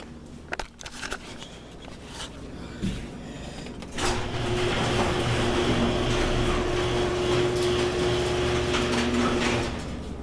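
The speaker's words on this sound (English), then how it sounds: "I'm gonna open the garage and start it" A garage door opens ahead of a 2008 Yamaha TT-R110 start-up, with a few sharp knocks and clatters first, then a steady loud rolling rattle that runs for several seconds before easing off.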